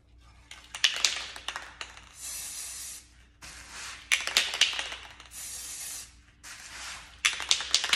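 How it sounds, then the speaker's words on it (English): Spray paint hissing from an aerosol can into the inside of a clear glass vase, several short close bursts with brief pauses between them, along with faint handling noises. "Now I'm just gonna spray the inside."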